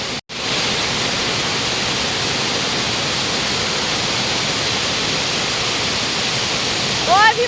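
A waterfall at a Lahu village pours with a loud, constant rushing roar that fills the whole clip, broken only by a brief dropout near the start.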